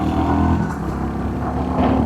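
A 350cc cruiser motorcycle revs its throttle up close, a loud steady engine drone with pulsing exhaust notes and no speech over it.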